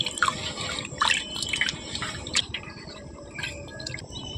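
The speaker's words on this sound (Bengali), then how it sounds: "এখন খুব ভালোভাবে এই জলটাকে এইভাবে মিশিয়ে নেব।" Water with fresh lemon juice being stirred by hand in a basin, giving soft irregular drips, splashes and sloshes at close range with no talking.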